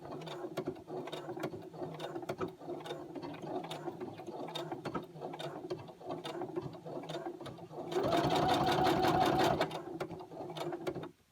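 A sewing machine runs a simple straight stitch through scrapbook paper, a close rapid mechanical clatter that runs steadily throughout and turns louder and faster toward the end, with no voices.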